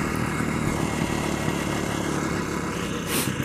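An old motorcycle engine, unridden for some 20 to 25 years, runs steadily in a continuous mid-pitched rumble at a close, even level, with no speech over it.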